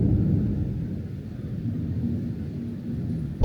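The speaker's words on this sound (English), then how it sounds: "I was woken up by what I thought was an explosion. It wasn't, it was lightning." Low rolling thunder rumbles through a heavy nighttime thunderstorm with rain pouring down, a sustained deep roar that slowly fades over several seconds before a sharp sound at the very end.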